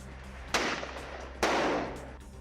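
Israeli air strikes hit eastern Khan Younis, two heavy blasts about a second apart, each a sharp burst that rolls into a long, rumbling decay over a low steady hum.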